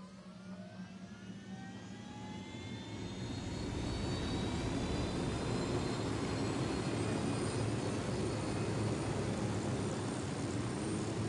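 A helicopter flies in a video game on a PS4 broadcast, its engine and rotor roar building into a loud, steady whine that holds without a break.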